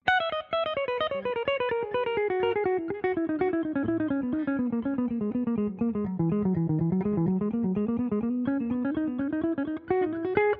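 Fast electric guitar notes run in a steady repeating four-note pattern, descending then climbing back up, played alone with a slightly distorted tone.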